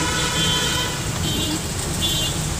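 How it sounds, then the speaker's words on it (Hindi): Road traffic at the busy Polytechnic intersection in the rain makes a loud, steady roar of engines and wet road noise, with a faint horn toot mixed in throughout. "ट्रैफिक कितना लगा हुआ है पॉलिटेक्निक चौराहे पे और बारिश हो रही है"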